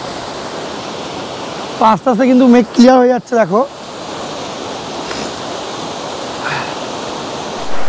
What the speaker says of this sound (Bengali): এখন কিন্তু দেখো রয়েছি আমরা ঝর্ণার ওপরে